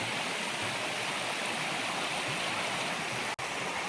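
A flooded Pack-a-Lot River rushes past after Hurricane Helene, its water roaring in a steady, broadband wash that stays loud and close throughout, with no talking.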